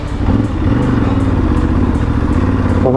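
A rally motorcycle engine drones loudly and steadily while being ridden, a close, throbbing rumble with slight pitch shifts and a rising rev at the end, with no talk.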